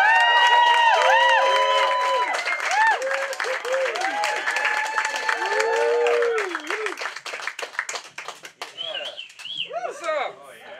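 A San Diego audience welcoming a rapper with loud, dense applause and whoops that fade into scattered claps, with a few high shouts near the end.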